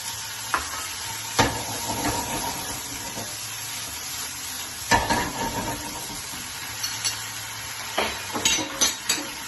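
Olives and capers sizzle in a pan for a Neapolitan pasta sauce, a gentle crackling fry punctuated by repeated stirring scrapes and clatters from a utensil against the pan.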